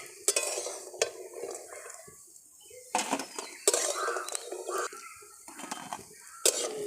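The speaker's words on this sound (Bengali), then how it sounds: "এমন করে সব বড়াগুলো ভেজে নেব।" Banana flower and masoor dal fritters fry in oil in a pan, with steady soft sizzling broken by sharp clinks and scrapes of a utensil stirring and turning them, close by.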